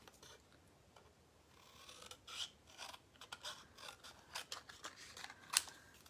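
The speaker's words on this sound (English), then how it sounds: "I'm just going to cut these apart" Scissors cutting apart printed paper words for a craft treat bag: quiet, close snips and rustling paper in irregular bursts, growing a little busier toward the end, with no talking.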